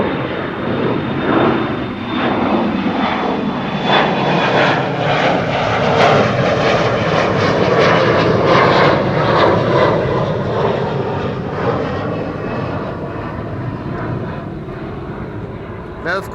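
A KLM airliner departing Schiphol gives a loud, sustained jet roar across the whole stretch, rising and slowly fading, with a voice briefly audible.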